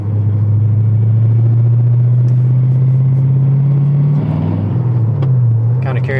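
An LS2-swapped Porsche 911 engine drones steadily while driving, a loud, low, continuous rumble that dips near the end.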